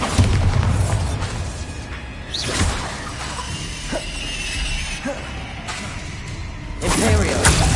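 Bombarda spell blasts in the Hogwarts Legacy video game: a series of loud, crashing, shattering bursts with booms and whooshes, separated by short gaps of mechanical clatter.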